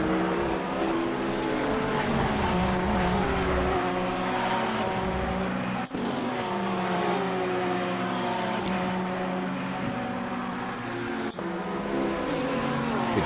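Sim racing at Monza: Ferrari race cars and a Porsche drone at high revs. Engine tones sweep and overlap in a steady pack with a couple of quick gear-change dips, and no talk.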